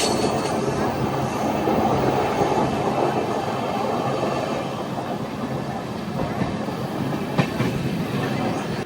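LHB passenger train 56305 Nagercoil – Thiruvananthapuram North running on rails in Kerala, heard from aboard as a continuous loud rumble with rhythmic clickety-clack of wheels over joints.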